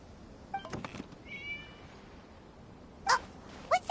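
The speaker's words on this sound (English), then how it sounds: "It was just a cat." A cat in the video game Genshin Impact meows several times, a couple of short mews early on, then two sharper, louder meows near the end, with quiet gaps between them.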